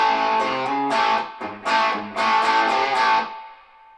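Electric guitar through a PV Classic 30 amp set to modern gain, played alone: a few loud, distorted chord strums and notes ringing out with sustain, then fading away near the end.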